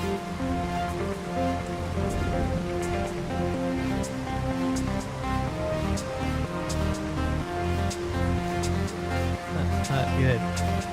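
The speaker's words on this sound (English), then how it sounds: "Starting to rain." Steady rain falls in Farming Simulator 25 on a rural farm map during summer field work, a dense continuous hiss that carries throughout, with someone talking over it and game music or ambience layered underneath.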